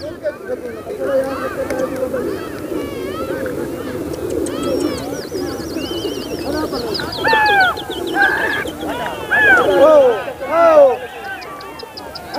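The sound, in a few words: pigeons cooing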